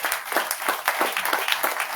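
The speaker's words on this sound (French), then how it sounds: "Est-ce qu'on peut applaudir le Seigneur" A church congregation applauding the Lord, a brief, close burst of rapid clapping from many hands.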